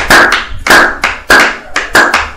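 A church congregation claps in unison to acclaim the Lord during a worship service, with five loud, sharp, rhythmic bursts of applause in quick succession.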